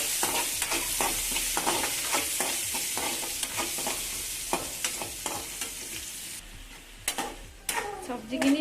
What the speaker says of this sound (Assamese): আৰু পিঁয়াজখিনি দি দিছোঁ। এইখিনি দি এনেকৈ ভাজি ল'ম।